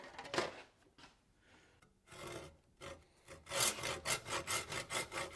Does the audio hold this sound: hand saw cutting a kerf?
yes